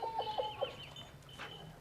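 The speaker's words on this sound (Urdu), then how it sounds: "ماشاءاللہ بڑا کلرفل مرغا ہے جناب۔" A colorful rooster on a goat farm gives a quick series of soft, rhythmic clucks at the start, faint and nearby, against a low background hum.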